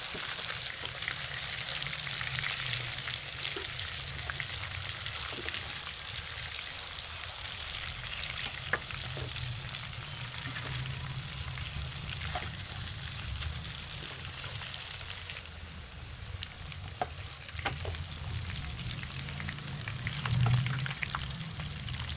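Chicken deep-frying in hot oil, a dense, steady sizzle that runs without a break, with occasional soft knocks and clinks as the pieces are turned.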